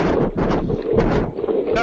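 Hurricane Hanna's winds roar at landfall on Padre Island, Texas, a loud, steady, buffeting wind over the microphone that covers the whole short stretch with no letup.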